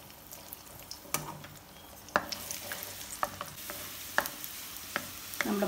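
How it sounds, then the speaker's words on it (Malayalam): Raisins frying in hot oil for egg biryani, just after cashews were fried, give a steady close crackle with scattered sharp pops and spits throughout, no voices. "മുന്തിരി ഇട്ട് കൊടുക്കാം"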